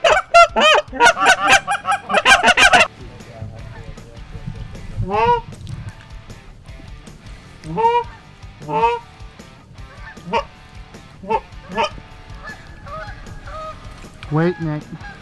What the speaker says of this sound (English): Geese over water is fun.